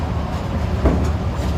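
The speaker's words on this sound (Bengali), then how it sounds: "এই আমাদের ট্রেন চালু হয়ে গিয়েছে" A train runs steadily, giving a loud, continuous low rumble and rolling drone close by, with no distinct horn or voices.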